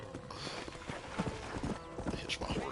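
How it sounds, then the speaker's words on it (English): Horse hooves clip-clop in a steady walking rhythm in the video game Red Dead Redemption, fairly faint under a low ambient background, with a brief snort near the end. "Hitch my horse over there."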